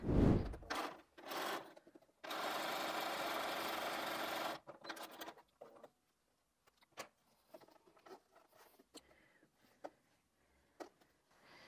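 A sewing machine stitching scrap pieces of a pineapple quilt block runs in one steady, close whirring burst of a couple of seconds, then goes quiet apart from light clicks and fabric handling.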